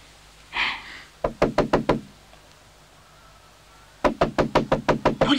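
Knuckles rap hard on a door in two quick sequences, five sharp knocks, then a pause and another run of about eight, loud and close.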